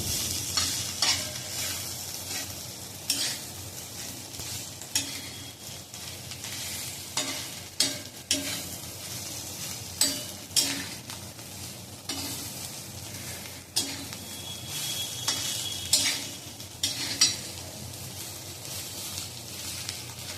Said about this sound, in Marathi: छान परतून घ्यायची खरपूस अशी भाजायची